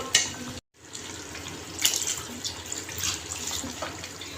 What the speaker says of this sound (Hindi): तो इसके अंदर हमने अब पानी डालना है।